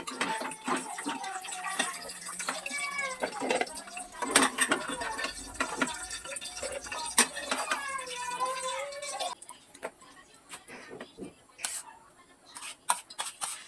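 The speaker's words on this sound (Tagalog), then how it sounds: "Gagayatin ko lang ito ng kudrado." A knife chops fried tofu into cubes on a board, sharp taps scattered irregularly across the clip and louder and sparser near the end, with a person talking quietly over the first two-thirds.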